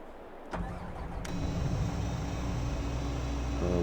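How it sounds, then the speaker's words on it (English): In Farming Simulator 22, a vehicle engine starts with an abrupt crank after a quiet moment, then settles into a steady, loud, close idle that runs alone to the end. "Alright, let's leave that engine running for a moment."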